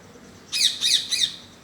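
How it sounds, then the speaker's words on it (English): A green parrot in a rooftop garden in the Lahore region gives three quick, sharp, shrill squawks in a row, moderately loud against a quiet background. "you can hear the sound of the parrot as well."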